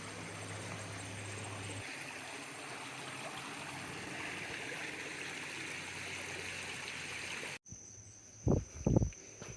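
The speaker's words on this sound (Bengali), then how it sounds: "এরকম পানিযুক্ত ঝর্নার লেক" A hillside waterfall stream near a lake in the Chattogram hills flows with a steady, soft rushing trickle; near the end the flow cuts out and a few brief louder knocks or handling sounds follow.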